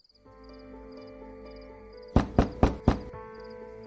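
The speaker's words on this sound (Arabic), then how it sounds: "ده مين اللي بيخبط بالليل كده؟" Four sharp, evenly spaced knocks on a door at night ring out loudly over a soft sustained background tone, close and without talk.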